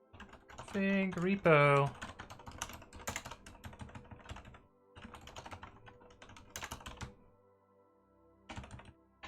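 Rapid computer keyboard typing while code is written, a steady patter of key clicks running under brief spoken words, pausing and resuming in short bursts.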